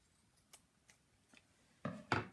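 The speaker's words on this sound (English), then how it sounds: "And again with the liner, I'm going to cut the corners." Scissors snip the corners of fabric lining on a zipped, fully lined cosmetic bag being sewn: three soft, sparse snips, then two louder, closer cuts near the end.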